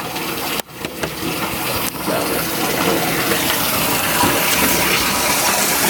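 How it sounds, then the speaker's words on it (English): A tap runs steadily into a bathtub, a full, continuous gush of water that holds at a constant level for several seconds after a brief dip near the start. "The water's still going."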